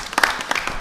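A brief round of applause at a school board meeting, a few scattered, fairly close hand claps in a short burst of under a second.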